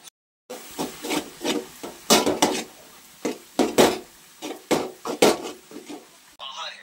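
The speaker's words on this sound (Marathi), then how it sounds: "हे मसाला घालून मिक्स केले की होते बराबर. तर ह्याला फिरवू" Maggi noodles being mixed with masala in a pan, a utensil scraping and rubbing against the pan in a steady series of close, fairly loud strokes, with no talking.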